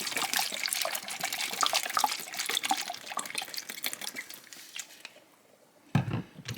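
Soy sauce poured into a plastic bag of chestnuts gives a steady liquid trickle and splashing for about five seconds, then fades, with a short plastic rustle at the end.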